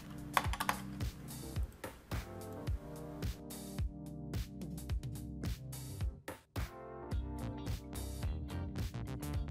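A database password being typed on a computer keyboard during a software install, with a fast, irregular run of close, crisp key clicks and taps that pauses briefly before resuming.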